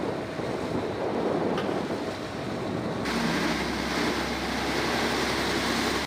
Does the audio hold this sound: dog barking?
no